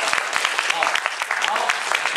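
Audience applause at a Taiwanese association rally promoting non-toxic food products: a steady, dense patter of many hands clapping throughout, with voices mixed in.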